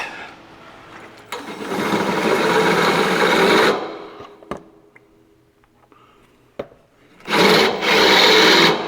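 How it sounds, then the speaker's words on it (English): A power drill whirs loudly for about two seconds, stops, then gives a couple of short clicks before a second burst of drilling near the end. "So I know where to drill the hole."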